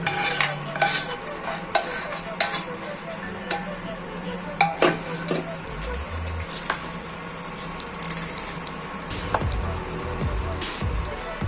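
Ghee-fried spices and Kashmiri chilli powder are stirred into mutton rogan josh in a pot, with a spoon scraping and clinking in irregular strokes over a soft, steady sizzle.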